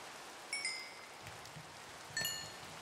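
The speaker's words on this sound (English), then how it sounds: "the rain in this game seems always to be really loud" Steady rain falling in Minecraft, a soft even hiss with a few faint spatters, with brief chiming game tones standing out above it.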